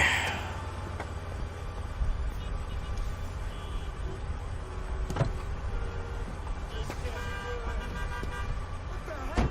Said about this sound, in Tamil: எதுக்காக இவ்வளவு டிராபிக் ஜாம்?